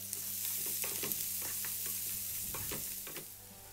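Sliced onions fry with chopped ginger and green chilies in a pan for Mysore masala dosa filling, a continuous close sizzle with spoon-stirring scrapes and clicks throughout.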